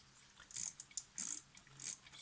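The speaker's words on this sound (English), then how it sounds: "so the shutter seems to be doing something" The shutter mechanism of a Zorki 6 rangefinder camera, under reassembly, clicks and ratchets in three short bursts of crisp, close mechanical snaps against a quiet background.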